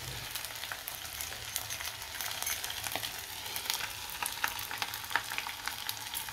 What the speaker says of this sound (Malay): Tunggulah telur ini masak